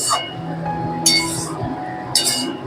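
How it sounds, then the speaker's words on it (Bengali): A metal lid lifted off a pot of cauliflower-stalk curry simmering on low heat gives two short bright clinks, clearly audible against the low steady background of a kitchen. "দেখি ঢাকাটা খুলে কতটা জল আছে"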